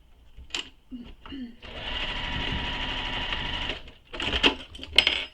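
A sewing machine basting the fabric ends of a backpack together, with short bursts of stitching, a longer steady whirring run, then more brief runs, all close up alongside small handling clicks and rustles.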